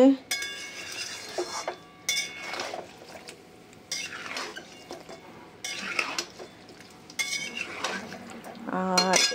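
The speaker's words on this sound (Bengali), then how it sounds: "এদিকে আমার মাংস কষানো হচ্ছে" Meat being stir-fried in a pot for a home curry, with close metallic clanks of a spatula scraping the pot in repeated bursts over a soft sizzle, no speech.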